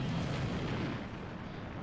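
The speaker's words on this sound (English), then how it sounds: "you get all the explosions as you're flying through" Deep, rumbling booms roll continuously in Disney Infinity 3.0 as a reactor is destroyed, a dense wash of explosion noise with no clear individual blasts, fairly loud and sustained throughout.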